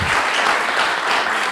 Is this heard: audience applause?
yes